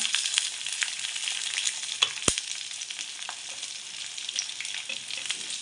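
Garlic, green chillies and onion fry in a pan for a vegetable dish, making a steady, fairly quiet crackling sizzle with a couple of sharp clinks.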